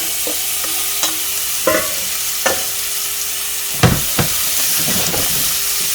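Pork chops sear in a hot cast iron pan with a loud, steady sizzle, broken by occasional bursts of crackle and spatter where the meat is moved. No voices are heard.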